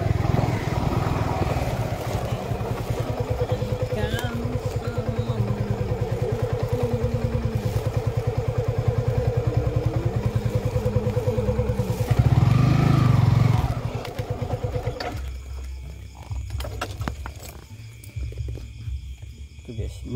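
A motorcycle rides along a road, its engine a steady close drone that swells briefly louder near the end before thinning out, with a voice talking over it.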